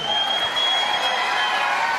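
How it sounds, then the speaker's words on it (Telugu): An audience at a Vestige business leaders' meeting gives a short round of clapping, a loud, continuous wash of hands with a faint high whine over it. "ఇంతే క్లాప్స్"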